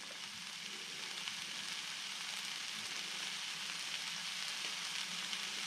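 An egg fries in a pan for nasi goreng with a steady, close, hissing sizzle that holds even from start to finish, with no talk.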